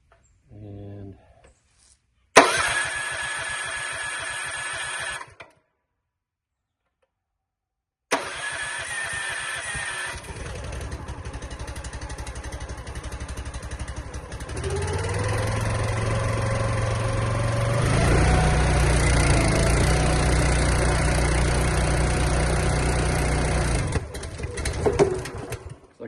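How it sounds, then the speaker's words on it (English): A RuggedMade machine's engine being key-started on choke in 24-degree cold: brief cranking, then a whining start and a pause, followed by the engine catching and running steadily. Its idle rises and settles over the rest of the clip. "we'll see how this thing starts up. I've got key start."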